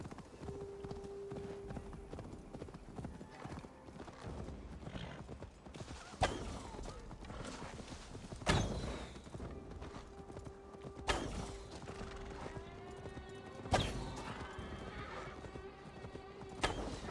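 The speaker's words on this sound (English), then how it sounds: "Horseback riding" A horse ridden at a gallop in Assassin's Creed Valhalla, with rhythmic hoof clip-clops running throughout, a couple of whinnies and sharp louder bursts of game action, under quiet in-game ambience.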